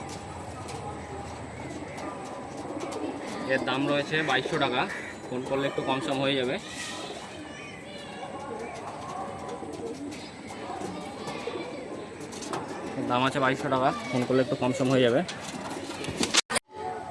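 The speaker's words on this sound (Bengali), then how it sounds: "পরে একটা পায়রা চলে এলো বন্ধুরা, নর পায়রা" A breeding pair of pigeons coos in a steady low throb near the microphone, with someone talking over the birds for much of the time.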